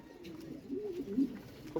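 Low, soft pigeon cooing murmurs steadily through the clip, a close, continuous burble with a slightly louder coo near the end.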